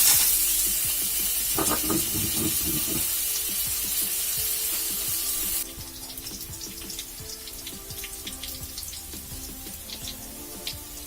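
Potatoes frying with salt in a pan for a green papaya fish curry: a loud, hissing sizzle fills the first half, then drops to a quieter crackle with occasional stirring scrapes, close by, no talk.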